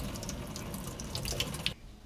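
Hot tap water runs steadily over muzzleloader parts being rinsed clean, a close, continuous splashing rush that cuts off abruptly near the end.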